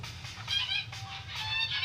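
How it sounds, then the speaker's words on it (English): Cartoon geese in a tablet game honk in a dense, overlapping chorus that sounds like a distant flock, continuous and moderately loud with no talking. "Is that a goose army?"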